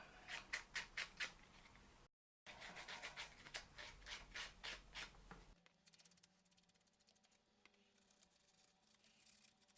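A model road piece for the Gaslands tabletop game gets its edges dulled with sandpaper in close, rhythmic rasping strokes, loud at first, then a brief gap and softer scratching toward the end.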